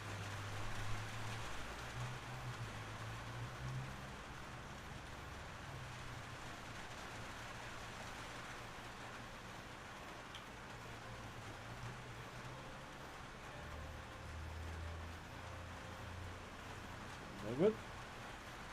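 Steady rain falls on a corrugated iron roof as a constant faint wash, with a low rumbling hum underneath and a brief louder clatter near the end.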